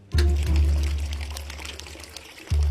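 Water gushes steadily from a kitchen tap, starting abruptly, pouring for a couple of seconds, then briefly stopping before surging again, heard close up with no talking.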